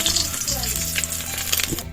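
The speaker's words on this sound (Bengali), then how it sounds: "এই ডিমটা একটু ভেজে নেবো।" Eggs sizzle and crackle in hot oil in a wok, a steady close frying hiss with small pops throughout.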